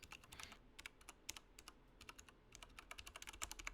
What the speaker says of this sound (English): it'll give you some stuff to type, and you just have to type it